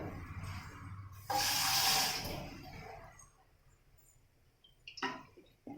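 Water is poured briefly into a freshly washed pressure cooker container for dal, a splashing rush that fades into quiet, followed by a light metallic clink.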